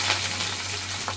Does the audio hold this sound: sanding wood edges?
no